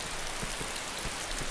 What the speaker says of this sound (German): Warum regnet das in dieses Haus rein?